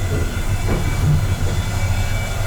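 A Russian passenger train heard from inside its onboard toilet: a steady, loud, low rumble with faint rhythmic rail clatter and a hissing wash over it, and no voices.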